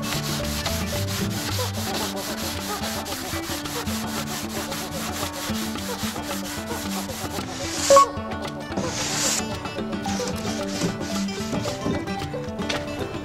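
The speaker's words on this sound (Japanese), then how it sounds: "このハンドサンダーを買ってきたので、この表面をね、ヤスリがけしていこうと思います" A hand sander rubs across a surface in the cargo area of a kei van being converted for sleeping, making steady, close, rhythmic scratchy strokes with a short knock and a brief pause before the sanding resumes.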